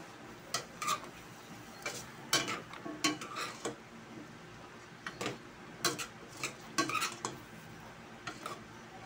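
Papaya and chicken stirred in a cooking pot, with a steady series of close metallic scrapes and clinks of a utensil against the pot, irregular but frequent, fairly quiet, with a faint sizzle underneath.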